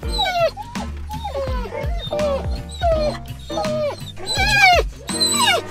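German Shorthaired Pointers whimper, yip and bark in excited bursts at a dog park, close and loud, with high whines sliding up and down between short barks.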